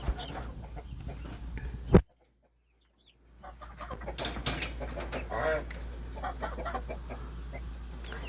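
Young Lavender Orpington chicks and guinea fowl cluck and call in a pen, a brief close knock, then a short silent gap before a steady mix of soft chirps and clucks returns with a faint hum underneath.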